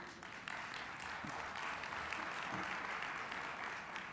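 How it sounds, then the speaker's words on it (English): An audience at a life-science conference session applauds, giving steady, even clapping from a large crowd that runs the whole span at moderate loudness with no speech over it. "Anytime you want to interrupt with applause, please feel free to go ahead with this."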